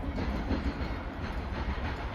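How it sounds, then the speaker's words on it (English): A Norfolk Southern intermodal freight train rolls past close by at a restaurant beside the tracks in Palmer, Massachusetts, a loud continuous rumble with rhythmic clickety-clack of wheels over rail joints. "Intermodal Z264 NS passing by us at the Steaming Tender Restaurant in Palmer."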